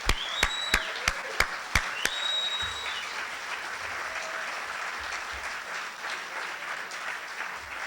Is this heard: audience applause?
yes